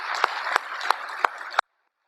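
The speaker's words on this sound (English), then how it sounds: "how about a big round of applause for Mount Moriah?" Applause for Mount Moriah at the closing session of a conference, a crowd's clapping with a few loud, sharp claps at a regular beat, ending abruptly in silence.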